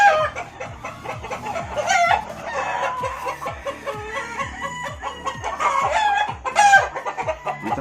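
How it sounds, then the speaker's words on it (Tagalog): Many chickens cluck and squawk together in a backyard poultry farm in Compostela, Cebu, with a rooster crowing now and then over a busy, steady farmyard din. "Maraming manok dito guys."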